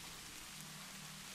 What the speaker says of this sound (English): Sounds like the rain might be beginning to taper off a little.